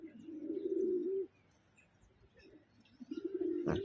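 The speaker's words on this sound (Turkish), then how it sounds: "bak şurada bir Pakistan kuşu var" A Pakistani pigeon gives low, soft cooing calls, one drawn-out coo followed by a pause and then another starting, faint and close in a quiet setting with light chirps in the background.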